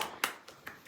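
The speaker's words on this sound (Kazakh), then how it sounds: "Қол шапалақтаймыз" Guests at a children's fashion show clap hands in a few sharp, scattered claps, four distinct bursts spaced unevenly over a brief moment, fairly close and without talk.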